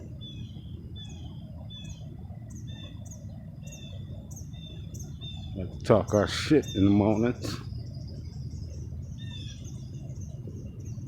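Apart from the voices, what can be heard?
crows calling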